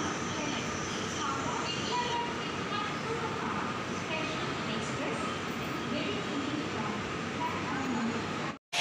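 A train runs on the line toward Balangir and Titlagarh, giving a continuous rumbling, rattling ride noise at moderate level that holds steady before cutting off abruptly at the end.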